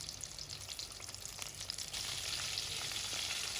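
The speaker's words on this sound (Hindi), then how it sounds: "हमारी चिली बाइट, चीज़ी चिली बाइट फ्राई हो चुकी है।" Cheesy chilli bites fry in hot oil, a soft steady bubbling sizzle that grows slightly fuller midway, faint and close with no speech.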